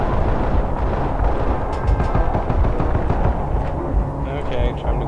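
Enemies fire through bushes in the Call of Juarez: The Cartel co-op shooter, with dense, loud continuous gunfire and rumbling blasts across the whole stretch and voices talking over it.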